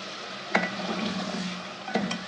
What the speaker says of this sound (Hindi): अब हम चिकन की भुनाई जो है वो मसाले के साथ अच्छे से कर लेंगे